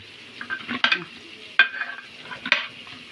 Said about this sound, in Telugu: ఈ విధంగా బాగా కలపాలి ముక్కకు పట్టాలన్నమాట